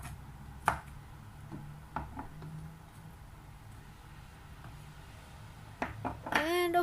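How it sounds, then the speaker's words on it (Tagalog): Garlic being crushed and chopped with a knife gives a few sharp, scattered thuds and taps on a board, with a voice speaking in between. "Ang ating panggisa, ang garlic, ayan. So, dikdikin lamang po natin, saka po natin ito hiwain ng konti"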